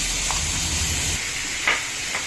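Chopped onions hitting hot oil in a pan while cooking a coconut milk chicken kulambu, a steady close hiss and sizzle with a low rumble early on and a couple of brief sharper spits.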